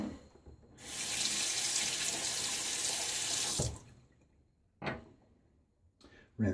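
A safety razor is rinsed under a running tap in a sink, a loud close gush of water lasting about three seconds, followed by a few brief knocks and taps as the razor is handled.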